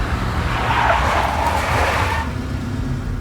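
A big black Mercedes in a Max Payne game cutscene, heard as a loud, close rush of engine and tyre noise that swells for about two seconds, then cuts to a lower steady hum.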